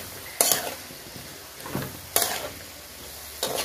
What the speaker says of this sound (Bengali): এবার দিয়ে দেবো এখানে সব সবজিগুলো।